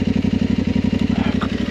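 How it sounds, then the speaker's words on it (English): An Aprilia Tuareg 660 motorcycle with its stock exhaust gives a loud, close, rapidly pulsing engine note, even and throbbing throughout with no talking. "Listen to that. Great exhaust note for a stocker."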